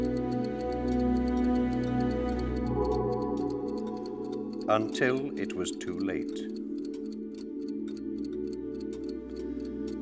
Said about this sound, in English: the clock tick and tock, the sound echoing out of his chest